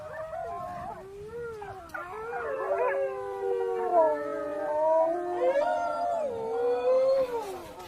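A pack of wolves howling near Chernobyl, several overlapping long, wavering howls rising and falling together, fairly close and continuous, with a few higher yips.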